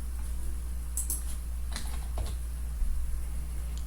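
Light key clicks from a computer keyboard as a short command is typed, a few quick taps near the middle over a steady low electrical hum, with no voices.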